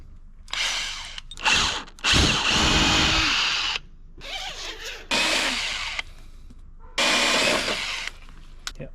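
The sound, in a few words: power drill pre-drilling holes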